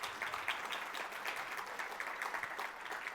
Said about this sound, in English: Please, another round of applause for wonderful Anne.